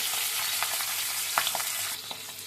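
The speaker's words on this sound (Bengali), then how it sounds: "মিডিয়াম টু হাই ফ্লেমে হালকা রং ধরা পর্যন্ত এপিটোপিট ভেজে নেবে" Pabda fish fry in hot oil over a medium-high flame, a steady close sizzle broken by a few sharp crackles and pops, with no talk.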